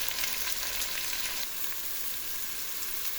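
Carrots and onions sauté in a pan for broccoli soup, giving a steady close broadband sizzle with faint scraping from stirring, and no voices.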